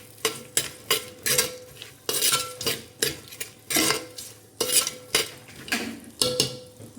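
Two medium onions and about ten green chilies frying in a pot for Ravulapalem kunda biryani, with loud rhythmic scraping strokes of a spoon against the metal over a sizzling background, about two strokes per second.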